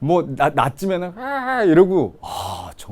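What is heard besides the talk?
No everyday noises stand out.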